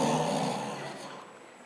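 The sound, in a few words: man imitating a snore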